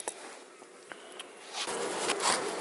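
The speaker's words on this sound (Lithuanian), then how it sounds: "matosi, kad bitės jau landžioja tenais" A faint, steady buzz of insects, like bees around a hive entrance, swelling louder in the second half with light rustling.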